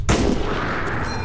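A gun fires in the video game The Last Case of Benedict Fox: one abrupt, loud blast followed by a heavy, sustained roar of echoing gunfire and rumble, with no voices.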